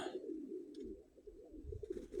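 Soft cooing of hardy flying pigeons, a low steady warbling coo rolling on and on, faint and fairly close, with light rustles and a brief higher flutter or chirp near the start and end.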